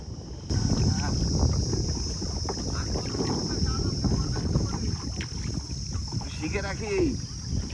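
Small wooden dinghy gliding along a river in the Sundarbans, with water lapping and steady wind rumble against the microphone; faint voices and a bird chirp in the background.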